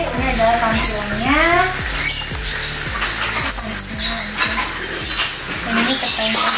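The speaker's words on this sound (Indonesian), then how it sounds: "Menunggu ikan gorengnya jadi" Fish sizzles and crackles in a hot pan while something scrapes and stirs in rhythmic strokes, with voice-like sounds layered over the frying.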